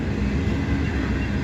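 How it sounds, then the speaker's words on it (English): Two freight trains coupled together roll past through Abbeville, South Carolina, giving a loud, steady, close rumble of wheels and railcars with no pauses. "these are two trains that have been tied together"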